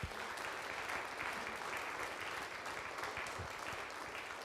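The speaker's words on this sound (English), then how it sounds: "Let's give him another round of applause." A crowd at a charity evening gives a performer named Jeff another round of applause, a steady, even patter of many hands heard fairly faint and distant throughout.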